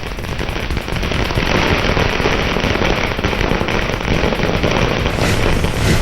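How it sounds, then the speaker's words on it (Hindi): Dense, continuous crackling of firecrackers set off in celebration at a BJP party office, bursting in rapid, overlapping volleys, loud and sustained throughout with no pauses. "कार्यकर्ताओं ने की जमकर आतिशबाजी।"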